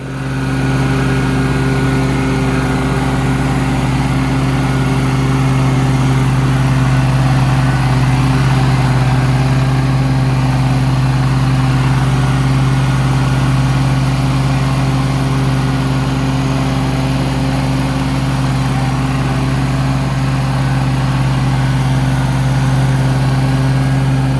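A whippy string trimmer runs steadily and loudly close by for the whole stretch, its engine holding a constant droning hum with no pauses.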